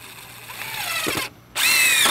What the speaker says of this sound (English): Then we're going to drill our holes with our half-inch galvanized bolt, nuts, washers